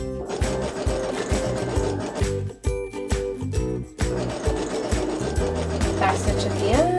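Sewing machine running in fast bursts of stitching through tulle, a brief back stitch at the start, with short pauses between runs; steady mechanical whirring and thumping close by, no talk over it.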